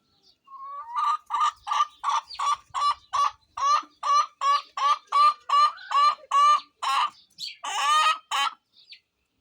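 A run of about twenty short, evenly spaced clucks from chickens eating, steady and fairly close, ending with a few louder squawks; no talking.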